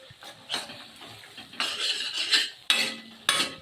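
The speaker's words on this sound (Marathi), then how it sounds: "छान असं हलवून घ्यायचं आणि छान आपल्याला तेल सुटेपर्यंत तळून घ्यायचं" A spoon scrapes and stirs thick curry gravy with kasuri methi in a pan, frying until the oil separates; several distinct scraping bursts with a faint sizzle underneath, close and fairly loud, no talking.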